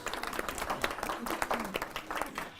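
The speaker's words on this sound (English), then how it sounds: "Let's give her a big hand." An audience claps for a school principal at a Summit School District gathering, a steady burst of applause with scattered voices mixed in, sustained across the whole moment.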